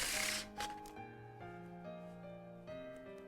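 A deck of playing cards is riffled into a bridge during a one-handed shuffle, a soft burst of flicking cards followed by quiet light taps and settling, close and faint.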